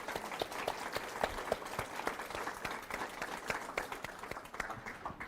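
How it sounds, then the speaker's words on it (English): Audience applause at a talk, steady scattered clapping of moderate density, fairly quiet and distant, running for several seconds with no talking over it. "let's give him a round of applause for all this info"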